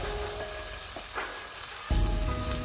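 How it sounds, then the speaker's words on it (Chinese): Shredded pork and minced garlic stir-fried in a wok over high heat, a steady close sizzle with a few scraping stirs and a louder burst of frying near the end. "这里我们开大火，快速的给它翻炒一下，翻炒均匀，把肉丝炒熟炒香"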